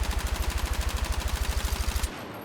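QBZ rifle in Battlefield 6 firing fully automatic with the trigger held, a rapid, even stream of loud close shots for about two seconds, then abruptly stopping with a short tail.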